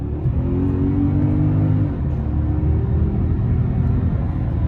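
A 2007 Mercedes-Benz E550 with a 5.5-litre V8 pulls hard, its engine drone rising steadily in pitch, briefly dropping as it shifts at about two seconds, then climbing again, loud and close from inside the car.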